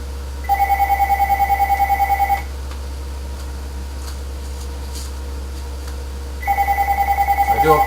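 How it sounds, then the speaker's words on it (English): A telephone rings with steady repeated electronic tones in two bursts, one near the start and another at the end, over a constant low hum, during a sim-racing broadcast of an NRSL MLP Cup Series race at Mosport. "I do apologize for the phone ringing."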